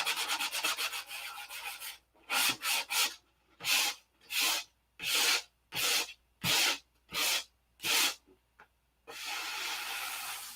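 Sandpaper of 180 grit rubs by hand over a model P-47 part being rounded, first in fast continuous strokes, then in distinct back-and-forth passes with short pauses between them, ending in a steady longer scrub.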